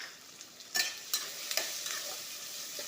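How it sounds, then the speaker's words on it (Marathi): Onion and tomato tempering for dal khichdi frying in a pan, a soft steady sizzle broken by several sharp scrapes and clinks of a spoon stirring, close and without talk. "आता हे कांदा टॅमॅटो आपल्याला चांगलंसं शिजवून घ्यायचं आहे।"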